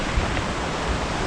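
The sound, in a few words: River Oykel flowing water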